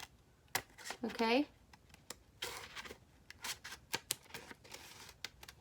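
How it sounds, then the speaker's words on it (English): Scissors snip around the edge of a felt circle in a series of short, close crisp cuts, with a brief spoken word near the start. "hook my scissors through the middle, and start cutting around the edge of my circle"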